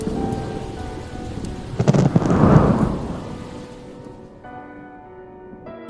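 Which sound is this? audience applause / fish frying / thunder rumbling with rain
thunder rumbling with rain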